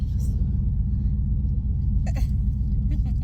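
Low, constant road rumble fills a moving car's interior, with a few brief faint voices and small noises above it.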